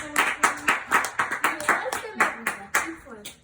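An audience applauding after a 4th grade student's presentation, a short burst of quick, sharp claps from a small group, close and lively, with voices speaking over the clapping.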